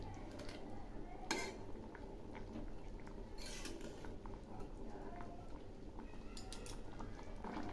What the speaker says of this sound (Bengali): ঝোল একটু একটু ফুটছে